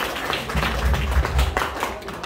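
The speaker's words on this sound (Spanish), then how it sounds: "Calurosos aplausos, por favor." A crowd at a quinceañera applauds warmly, a dense, sustained patter of clapping hands with a few heavier low thumps, lasting throughout.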